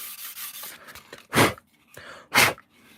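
Filler on an Airfix Concorde plastic model being sanded by hand, short scratchy rubbing strokes, with two louder bursts standing out from the softer scraping around them.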